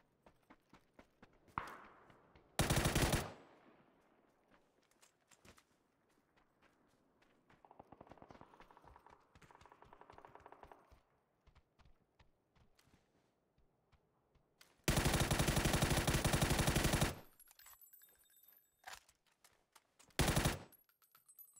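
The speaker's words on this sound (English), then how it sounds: "this a VSS trying to shoot me or?" Gunfire from a VSS rifle in the battle-royale game PUBG comes in several loud, sharp bursts of rapid shots, separated by quieter stretches of footsteps and light movement, with no talk.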